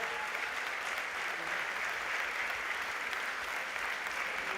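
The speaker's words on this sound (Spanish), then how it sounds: "Más fuerte ese aplauso," Sustained audience applause at the Rapa Nui Pacific Leaders Summit 2024, dense steady clapping from a large crowd that stays loud and even throughout, with no break.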